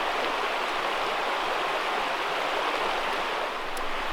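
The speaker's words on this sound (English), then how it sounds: "The river flowing out of the base of the cliff." River water pouring from the base of a limestone cliff at Malham Cove in the Yorkshire Dales, a steady broadband rush of flowing water that stays close and even throughout with no voices.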